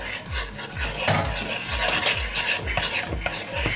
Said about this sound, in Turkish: Çikolatalı sosu yapıyoruz.